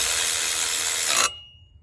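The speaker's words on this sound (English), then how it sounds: "you can take your impact ratchet here, put down on the nut" An impact ratchet spins down onto a nut during water pump replacement on a 2007 Cadillac DTS, giving a steady, loud whirring burst for about a second before cutting off abruptly into quiet.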